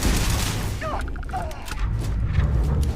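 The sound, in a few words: grenade explosions and gunfire in video game Starfield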